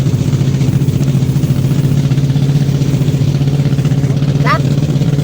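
A small fishing boat's gasoline engine runs steadily with a low, even throbbing hum, loud and close, with a brief chirp near the end.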